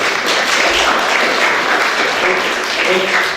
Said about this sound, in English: Yeah, you can clap, that's cool.